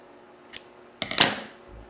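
Scissors snip through crochet yarn after two chain stitches, giving one faint click followed by a sharper, closer double snip, then quiet.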